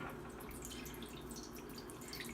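Water poured into the bottom of a roasting pan for an oven roast, a soft continuous trickle and splash close by, fairly quiet and steady without talk.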